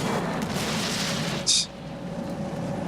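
Distant cannon fire rumbling through a battle in the Shogun 2: Fall of the Samurai strategy game, with a short sharp burst near the middle over a constant low din.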